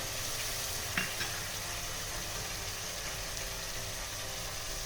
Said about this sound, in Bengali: এবার আমি সব কিছুর সঙ্গে মশলাটাকে ভালো করে আমি কষিয়ে নেব